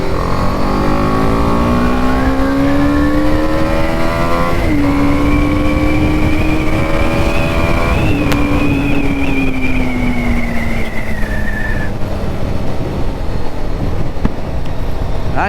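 BMW G310 R motorcycle ridden in fourth gear at about 37 km/h, a loud, steady close engine drone with a low rising hum and whining pitch that shifts slightly as speed changes, wind rushing throughout.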